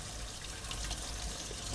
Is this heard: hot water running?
yes